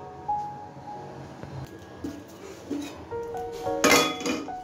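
A wok is set down on a kitchen stove, and metal cookware clinks and clanks in a few brief, close knocks, ending in a louder clatter.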